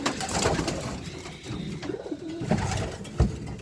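Homing pigeons in a loft give soft, low cooing calls over a busy background of rustling and movement nearby, with a louder thump near the end.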